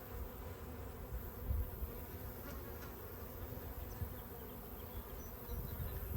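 Honey bees buzzing around an open hive frame, a dense steady hum of many insects close up with no talk.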